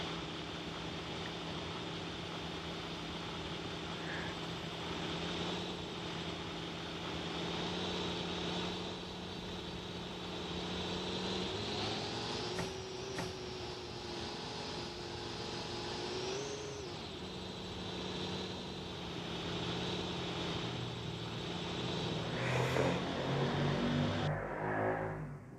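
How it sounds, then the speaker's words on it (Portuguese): A car engine starts and the car drives off, humming steadily up close. The revs rise and fall a few times, with no talking over it. "colocar o cinto aqui, ligar o carro. Soltar o freio de mão."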